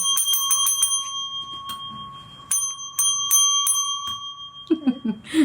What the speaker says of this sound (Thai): ช่วยแม่เคาะกระดิ่งแล้วครับ